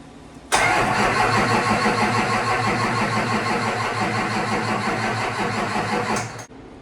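A built Duramax diesel engine cranks over steadily on the starter during priming without firing, a loud, even churning that runs for about six seconds before stopping abruptly.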